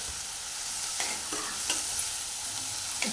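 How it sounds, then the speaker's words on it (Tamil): Onions and curry leaves sauté in a pan for chicken curry, giving a steady close sizzle with a few scraping stirs of a spoon. "வெங்காயம் வதங்கிட்டுருக்கு."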